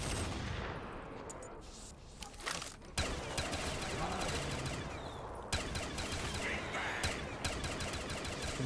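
Rapid bursts of gunfire in Black Ops 3 Custom Zombies on the Estate of Despair map, dense and continuous with sharp louder shots at intervals, mixed with faint voices underneath.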